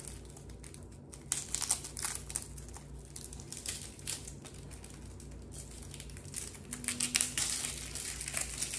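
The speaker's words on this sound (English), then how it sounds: "So I dice my onions for everything." A knife dices onions on a cutting board in a home kitchen, giving quiet, irregular crisp chopping and crunching taps that come in clusters of fast strokes.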